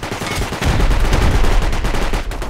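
Gunfire in the video game Rust, a rapid, continuous burst of close, loud shots rattling like an automatic weapon, steady throughout with no pauses.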